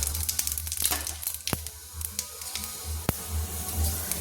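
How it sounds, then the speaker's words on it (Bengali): Panch phoron, a five-spice mix, sizzles in hot oil in a pan while cooking an eggplant dish, a close, continuous frying crackle with a few sharp pops and stirring clatter. "এবার আমি দিয়ে দিচ্ছি ফোড়নের জন্য 5 ফোড়ন।"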